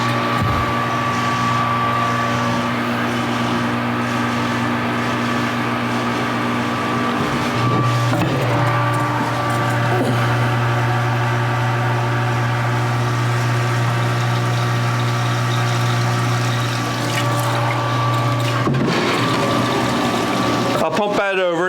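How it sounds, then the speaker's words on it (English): Pump moving hot mash water into a brew pot for an American single malt whiskey mash, a loud constant motor hum with steady liquid churning running the whole time, briefly shifting pitch midway. "So let me pump that over."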